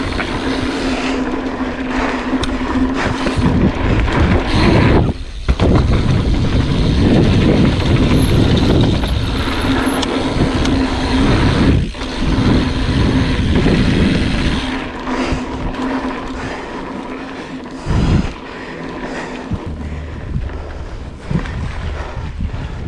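A mountain bike rides over a trail in flat pedals and Ride Concepts Livewire shoes, with continuous loud rolling and wind rumble, rattles and bumps, and brief lulls near the middle and end.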